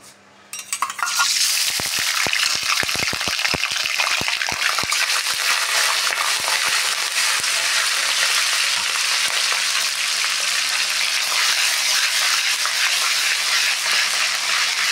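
Ginger paste and spices frying in a hot pan for masala-filled capsicum, starting with a few scraping stirs, then a loud, steady, close sizzle that hisses on without break.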